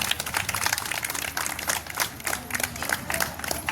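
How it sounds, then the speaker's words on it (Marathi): An audience at a quiz event applauds continuously, a dense steady patter of many hands clapping with crowd murmur beneath, loud and close throughout. "सर्वांनी टाळ्या वाजवा"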